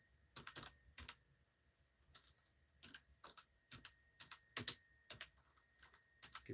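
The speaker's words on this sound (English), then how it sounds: "Typing with one hand." Quiet, close-up clicking of computer keys in irregular bursts of taps with short pauses, no speech.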